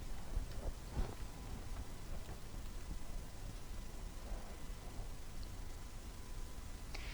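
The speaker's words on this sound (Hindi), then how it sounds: "बारिश कराची वालों के लिए ज़हमत साबित हुई।" Steady rain pours down in Karachi during a storm, a dense continuous hiss with low rumbling thunder underneath and a few sharper bursts near the start, heard alone without voices.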